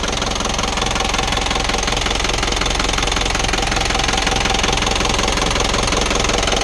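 Isuzu 4HG1 Turbo Power Air diesel engine idling with a steady, dense knocking clatter, loud and close, running continuously without pause and with no voices over it.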